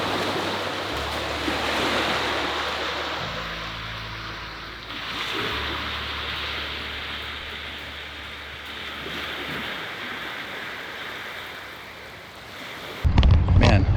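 Ocean surf washes and rolls continuously while paddleboarding off Rocky Point, Mexico, mixed with gusty wind buffeting the microphone and a low rumble, ending in a sudden loud splashy burst.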